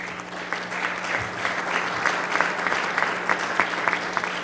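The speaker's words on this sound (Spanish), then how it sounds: "Lo recibimos con un aplauso." An audience claps at a formal evening presentation for a real estate development, a dense steady round of applause from a roomful of people, with a low electrical hum underneath and no talk.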